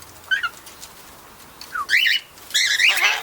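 Corellas and cockatiels let out sharp squawks and whistling calls in short bursts, a few isolated cries then louder clustered calls, close by and without talk.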